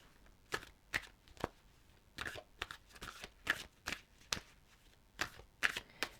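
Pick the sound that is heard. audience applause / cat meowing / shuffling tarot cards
shuffling tarot cards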